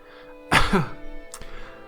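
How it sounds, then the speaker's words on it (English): A single brief throat clear in the visual novel game Umineko, a short rough burst near the mic followed by a faint second catch, set against quiet background music. "But after clearing his throat once, he introduced the dessert to us."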